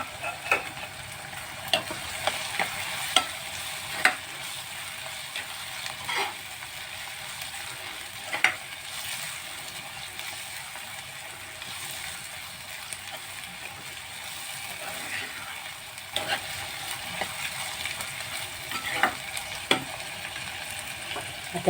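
Tomatoes sautéing in a pan for an Indian brinjal bharta, a quiet continuous sizzle broken by frequent scraping and clinking strokes of a spoon stirring against the pan.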